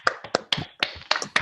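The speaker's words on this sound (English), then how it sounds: "give our fabulous company a round of applause" Scattered claps and taps from a small online audience of unmuted participants cheering a theatre company after a play, a handful of separate sharp hits at uneven intervals, close and distinct rather than a blended crowd.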